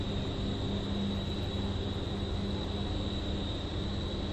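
An electric motor runs steadily near the microphone while its speed is checked with a digital tachometer, giving a constant droning hum with a high whine and no change in pitch.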